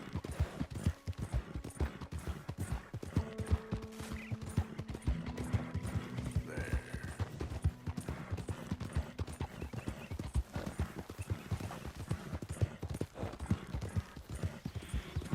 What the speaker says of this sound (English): that's a nice looking horse you have there